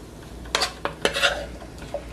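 Seasonings being sautéed in a pot for Dominican fish broth, with a spoon scraping and clinking against the pot in several distinct strokes over a soft background sizzle, close and fairly clear.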